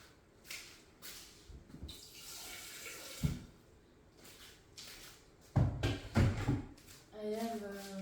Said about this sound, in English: So you just need to add some water.